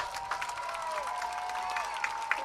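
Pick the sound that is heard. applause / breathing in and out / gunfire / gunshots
applause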